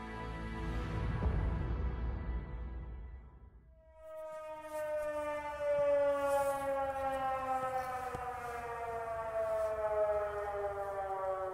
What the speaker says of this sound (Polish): Ciszę poranka przerywa wycie syren.